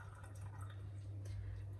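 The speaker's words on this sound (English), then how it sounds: "dump it into a strainer." Soaked almonds and their soaking water tipped from a mason jar into a kitchen strainer, giving a steady wet pour and drip with soft squishy splashes, close and continuous over a low background hum.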